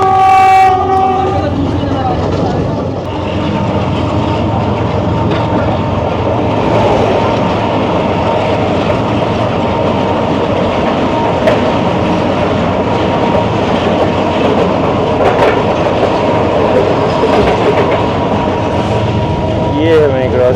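Shalimar Express passenger train running past on the Karachi–Lahore line, a loud horn blast at the start followed by a steady, close rumble and clickety-clack of wheels over rail joints, with faint talk underneath.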